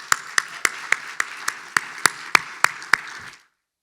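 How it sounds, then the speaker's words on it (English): Audience applause at a business luncheon during a small business summit executive lunch: a steady patter of many hands with sharp individual claps standing out at regular beats, fairly near and moderately loud, ending abruptly after about three and a half seconds. "let's give all of them a round of applause"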